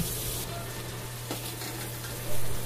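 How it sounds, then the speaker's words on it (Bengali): Egg frying in hot oil in a home kitchen, with half a spoon of salt added, gives a steady close sizzle with a low hum beneath and a brief louder swell at the end. "ডিমের মধ্যে হাফ চামচ নুন দিয়ে ডিমটা ভেজে নেব"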